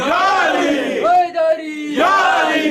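A crowd at a Muharram night majlis chants the religious slogan Nara-e-Haideri in loud, full-throated unison, with two swelling shouts separated by a brief dip.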